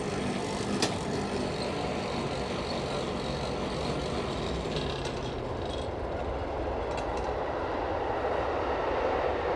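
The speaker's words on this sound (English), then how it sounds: "Commuter train." A commuter train passes nearby as a loud, continuous roar and rumble with metallic rattling and a few sharp clicks, sustained for several seconds without letting up.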